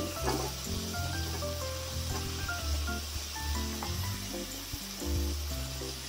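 Cut potato and papaya hit a hot pan and sizzle steadily, a soft continuous frying hiss with faint crackles, no voices.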